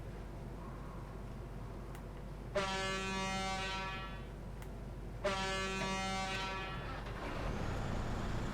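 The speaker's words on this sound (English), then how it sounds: "Is a big horn." A big logging truck's horn in a video game sounds two long, deep, loud blasts a few seconds apart, each held for about two seconds over quiet background.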